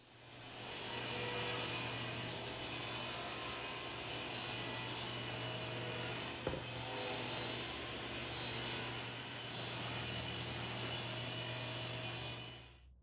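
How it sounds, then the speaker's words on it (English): Table saw trimming 1.5-inch-square wood pieces to thickness, a steady loud whining buzz running almost the whole time with one brief knock midway, alone without talk. "I'll use this table saw to trim the pieces to thickness"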